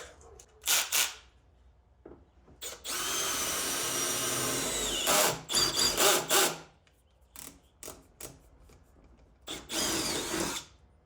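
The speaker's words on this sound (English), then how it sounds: "We're actually going to switch it up to a 3/8 drill bit." A power drill with a 3/8 inch bit whirs in short bursts and one long sustained run while drilling for a rear spoiler on a Mustang GT500, interrupted by clunks and knocks of handling between pulls of the trigger.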